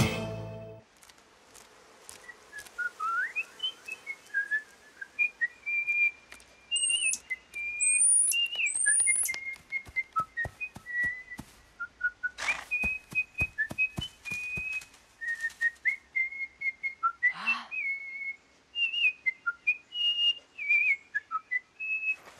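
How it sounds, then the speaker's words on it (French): Melodious cartoon birdsong in a French animated forest scene, with whistled, warbling phrases and chirps running continuously, loud and close, broken by sharp clicks and brief swoops, with no talk over it. "Vraiment, de tous les oiseaux, tu es le meilleur chanteur de la forêt"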